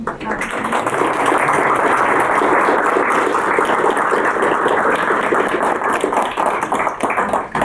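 An audience claps for the organizers of a public talk in Moscow, dense steady applause that swells within the first second and holds at an even loud level throughout, with no voices over it.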